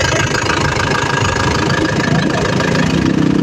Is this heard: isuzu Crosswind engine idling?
yes